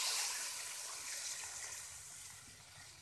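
About 1.5 litres of water poured into a cooking pot with chicken for a soup stock, a steady close splashing rush that tapers slightly, with no talking.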